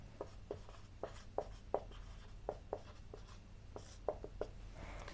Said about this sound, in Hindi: तो लिखते हैं विस्थापन को।